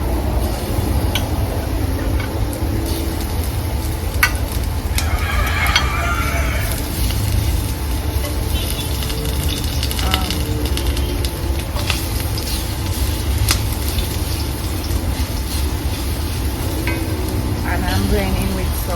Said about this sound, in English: So first I'm going to go in with some grated garlic.